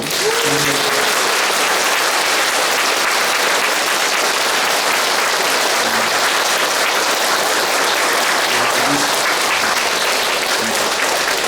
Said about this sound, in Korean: 이 부모님과 또 우리 신재근 마티아를 위해서 한번 큰 박수로